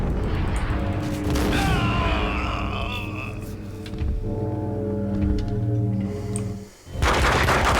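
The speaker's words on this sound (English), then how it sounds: "How many freaking shots do you take with a shotgun?" Shotgun gunfire in the Max Payne video game, a dense, loud stretch of game combat with booming blasts, clanking mechanisms and sustained tones, ending in a sudden burst after a brief dip.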